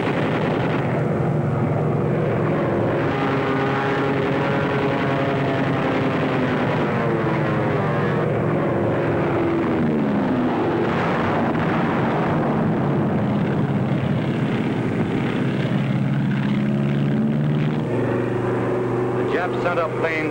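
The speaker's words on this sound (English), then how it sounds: "Sent up planes trying to drive us off" Japanese propeller planes fly in during a 1943 wartime battle, a dense, continuous engine roar that fills the whole stretch, mixed with narration and battle noise.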